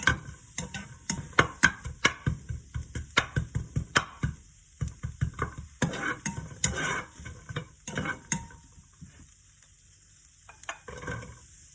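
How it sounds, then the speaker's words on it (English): Chopped onions tossed and stirred in a pan with no oil, giving a soft, fairly quiet sizzle broken by a rapid series of scraping stirs that thin out toward the end. "So just going to toss my onions."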